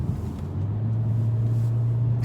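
Inside a Mercedes-AMG CLA 45 coupe, the performance exhaust sound piped through the audio system produces a steady, low, droning hum that holds constant while the car drives.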